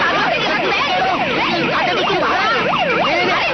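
Wailing siren of an arriving municipal vehicle, rising and falling in a steady repeating sweep, loud and close, with busy street noise beneath.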